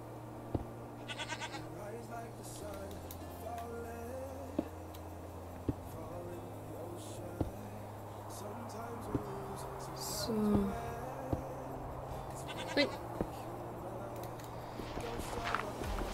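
Goats in the video game Minecraft bleat now and then at low volume, mixed with game footstep and click effects, under a person talking throughout.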